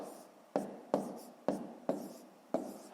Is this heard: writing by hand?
yes